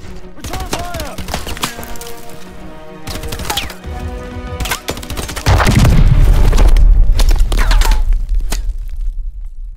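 Call of Duty Advanced Warfare gunfire in a battle: a dense run of sharp shots and bursts, with a heavy booming roar building after the midpoint and fading at the end. No one speaks.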